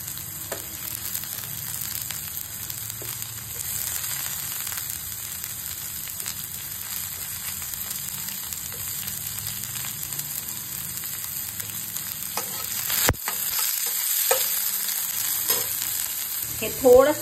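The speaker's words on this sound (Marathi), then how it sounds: "हा थोडासाच फ्राय करायचा की लगेच दोन्ही ढोबळी मिरची टाकून द्यायच्या आहेत" Onion and bell peppers frying in a pan for a paneer broccoli salad, a steady crackling sizzle with intermittent stirring scrapes and a sharp knock partway through, close and moderately loud.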